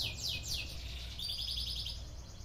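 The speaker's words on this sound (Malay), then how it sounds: "Patutlah rancak bunyi burungnya." Lively birds chirping outdoors, with repeated high, quick calls overlapping across the whole stretch above a low, steady background rumble.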